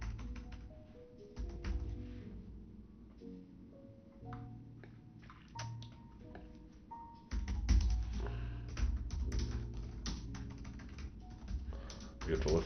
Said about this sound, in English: You get to listen to me type.